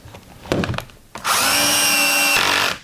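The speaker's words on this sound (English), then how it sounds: "So I can now screw those, and we're set to number 4 on the clutch, and they're 1-inch coarse washer heads." A power drill with its clutch set to 4 drives a 1-inch coarse washer-head pocket hole screw into a wooden drawer. A short burst comes first, then a loud, steady whir that runs for over a second and stops.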